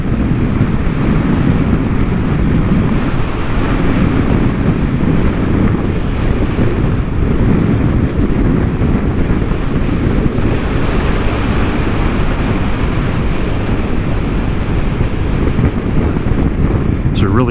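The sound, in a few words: headwind blowing while riding a Vespa scooter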